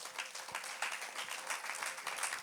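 A church congregation applauds during a worship service, steady and fairly soft clapping from many hands blending into a continuous patter with no voices standing out.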